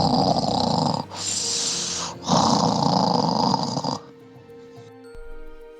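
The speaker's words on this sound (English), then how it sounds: "Sounds like the aliens snore just like we do" Aliens snoring in a video game, a loud, rough breathing drone that swells and pauses twice over a few seconds before cutting to a quieter tonal background.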